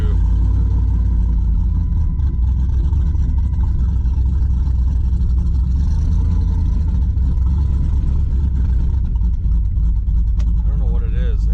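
A cammed Hemi in a Jeep Commander drives uphill, its loud, throaty engine rumble steady and close throughout, with a brief voice near the end.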